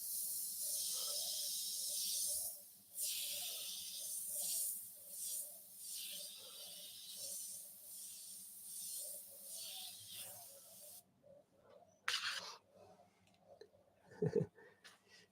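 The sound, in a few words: airbrush spraying paint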